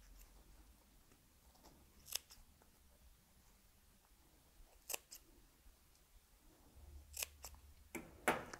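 Scissors snip into fabric corners for a bound buttonhole, a few sharp, quiet cuts spaced a couple of seconds apart, ending in two quick snips, against a faint room hush.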